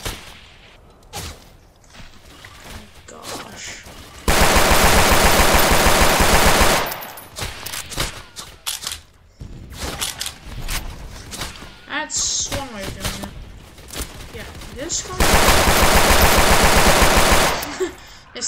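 Pistol fire in the trench warfare video game Entrenched, heard as two long loud bursts of rapid, dense shots with scattered single shots and thuds in between, near and harsh.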